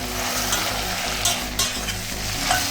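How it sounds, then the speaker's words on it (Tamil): Chillies and tomatoes sautéing for sambar, a constant close frying hiss with a low hum beneath and a few brief scraping stirs. "தக்காளியும் போட்டு எல்லாம் ஒன்றா போட்டு நம்ம கிண்டி வதக்கி எடுக்கணும்."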